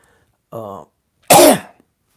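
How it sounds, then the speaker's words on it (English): A single short throat-clearing burst followed by one harsh, dry cough, close up, with quiet between them. "Got this dry cough over here."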